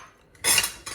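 Pecans tossed in melted butter are stirred briskly in a bowl, making a short burst of metal spoon scraping and clinking against the bowl, close and distinct, with no voices.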